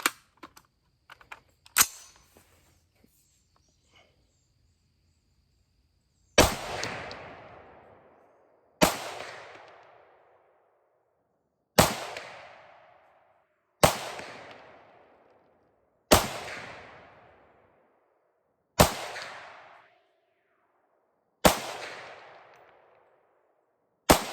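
Bear Creek Arsenal right-side charging rifle in .223 Wylde firing .223 Remington and 5.56 rounds outdoors, with eight loud, sharp shots spaced a few seconds apart, each with a ringing decay, after some faint handling clicks.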